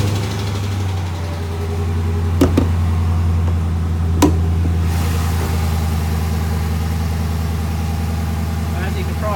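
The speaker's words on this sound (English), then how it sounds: "I'm gonna go ahead and fire up the engine and give you a look out there." A 2018 Dodge Charger R/T sedan with a 5.7 liter V8 Hemi starts and settles into a steady, low idle. The engine rumbles close by, with two brief knocks near the start.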